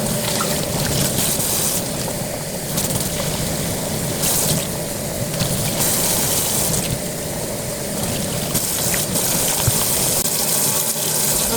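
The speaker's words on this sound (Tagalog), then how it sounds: "Sink faucet na ito." Water runs steadily from a sink faucet, a continuous close gushing splash whose texture shifts now and then as the flow changes, with no voices.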